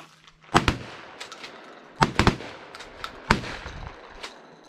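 A handgun being fired at an outdoor shooting range: sharp, loud reports in uneven clusters, roughly six or seven shots over a few seconds with short pauses between groups, no talking.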